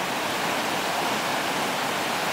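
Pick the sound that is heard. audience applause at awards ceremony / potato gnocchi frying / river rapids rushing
river rapids rushing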